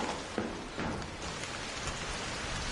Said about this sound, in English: It's raining and windy, so it's really hard to tell.